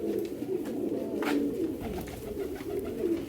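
Several pigeons in a loft coo in low, overlapping throaty calls, near and steady throughout, with no talk.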